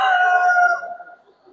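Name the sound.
rooster crowing at an Italian breed poultry show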